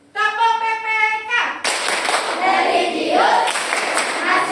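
A classroom of children chants in unison, then breaks into loud rhythmic group clapping for the PPK clap routine, with voices chanting over the steady claps.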